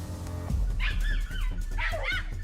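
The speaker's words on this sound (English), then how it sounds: "The moment the hound's frantic barking erupted, Leon immediately rushed forward." A hound in a forest gives sharp, high-pitched barks and yelps in two agitated bursts over a low background rumble, loud and fairly close.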